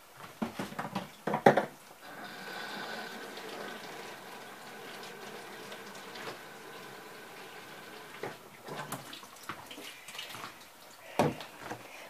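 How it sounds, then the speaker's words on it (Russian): Plain warm water is poured into a container holding onion skins for a garden infusion, a soft continuous gush and trickle with a few knocks and clinks at the start and end. "наливаю воды"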